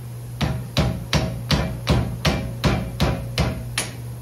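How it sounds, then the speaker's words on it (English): A hammer strikes a rusted, rotted rear disc brake caliper on a Dodge Grand Caravan ten times in a steady rhythm. Each sharp metallic bang comes close and loud, with a short ring after it and no talk. "Taking the hammer to it."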